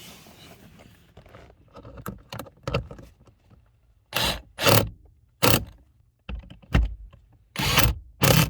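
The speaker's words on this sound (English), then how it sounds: "we'll install the actuator's 3 screws with the 7mm socket" A 7mm socket driving the three screws of a blend door actuator on a 2004 Honda Pilot air conditioning unit, heard as close, sharp ratcheting clicks and bursts separated by short pauses.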